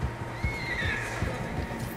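A horse whinnies loudly in the open world of Red Dead Redemption 2, its bright cry rising and falling for about a second over steady clip-clopping hooves and game ambience.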